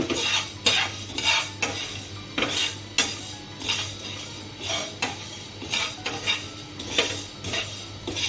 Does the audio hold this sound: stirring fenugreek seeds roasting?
yes